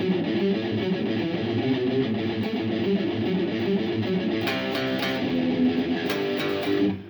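An electric guitar plays a muted, palm-damped rhythm riff, steady and continuous with no talking, the chugging pattern briefly opening up into brighter ringing notes near the end.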